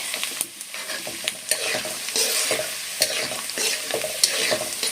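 Carrot for carrot chitranna frying in a pan, a continuous crackling sizzle broken by repeated scraping stirs of a spatula, close and fairly loud with no voices.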